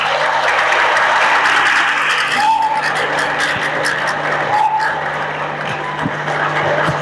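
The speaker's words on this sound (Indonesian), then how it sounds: "Tepuk tangan boleh?" Applause from an audience at a school event at SMP Namira, a broad steady wash of clapping that stays fairly loud across the whole stretch.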